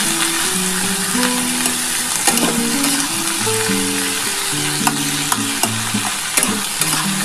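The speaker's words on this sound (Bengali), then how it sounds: "এই পেঁয়াজটার সাথে হলুদ আর নুন দিয়ে ভালো করে একটু ভাজা ভাজা হলে" Onion fries in a pan with turmeric and salt, a loud steady sizzle broken by repeated scraping strokes of a stirring spoon against the pan.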